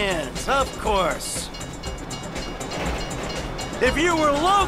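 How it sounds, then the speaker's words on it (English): In the GTA V video game, a train rumbles steadily past with a continuous clattering roar, while voices speak over it at the start and end. "If you were local, you'd know the train comes by right now."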